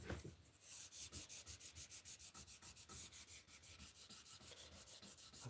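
Rapid, even back-and-forth strokes of sanding on a slipjoint knife rasp close up, about five strokes a second in a steady rhythm, with no talking.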